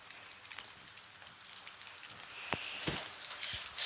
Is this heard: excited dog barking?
no